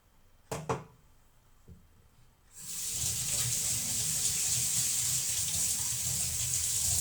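Tap water runs steadily into a glass in a kitchen, a loud continuous gush that starts after a couple of faint knocks and keeps going to the end.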